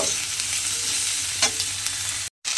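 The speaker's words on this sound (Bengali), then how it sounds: "এবার এই পেঁয়াজের সঙ্গে আলুটা একসঙ্গে দিয়ে একটু ভেজে নিতে হবে।" Sliced onion and potato fry together in a pan with a constant, close hiss of oil and a few soft stirring scrapes, with no talk and a brief cut near the end.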